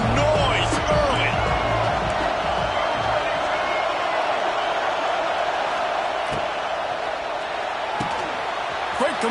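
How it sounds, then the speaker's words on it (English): Steady roar of a stadium crowd in a simulated American football video game, loud and continuous throughout, with a commentator's voice occasionally audible over the din. "This crowd bringing the energy and noise early."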